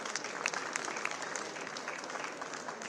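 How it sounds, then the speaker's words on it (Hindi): Audience applause at a youth award ceremony in Rajasthan, a dense, steady wash of many hands clapping at moderate distance, with a few sharper claps standing out and no speech over it. "तालियां बजती रहनी चाहिए"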